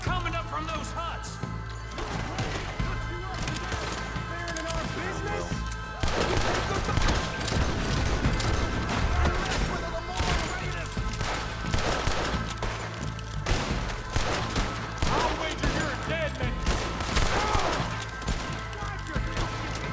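Gunfire in Red Dead Redemption, a battle near huts with repeated rifle and pistol shots in bursts, growing louder and denser midway, alongside crashes and with voices talking over it.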